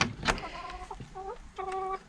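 Hens in a backyard coop or veranda clucking softly in short, tonal bursts, a brief call near the start and a longer cluck at the end, close by with no talking.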